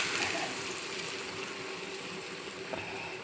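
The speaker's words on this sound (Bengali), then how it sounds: "এবার দিয়ে দিচ্ছি আমি জল" Water poured into a wok of hand-mixed egg and potato curry, a steady close gushing pour that runs the whole time, with a faint sizzle underneath and no talk.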